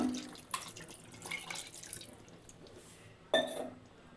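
Water splashes and pours in short bursts into a metal pressure cooker over half a kilo of mutton, with a few drips and clinks, fairly close and quiet.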